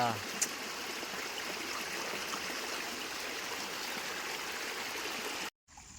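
Rainwater rushes loudly and continuously in a steady flowing wash, then cuts off abruptly just before the end.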